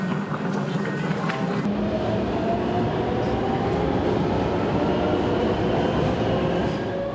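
A Taipei subway metro train running: a loud, steady rumble and rolling rail noise from inside or beside the car, with a faint whine over it, continuing for the whole stretch.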